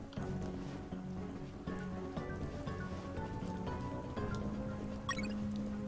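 Rain patters steadily on surfaces in the video game UNmetal, a soft continuous hiss under game music and effects, quiet throughout with a short bright chime near the end.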